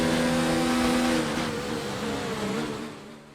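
Formula One engines in F1 2019 racing, a close high-revving car with a steady whine that shifts pitch as another car passes, fading slightly toward the end, no talk.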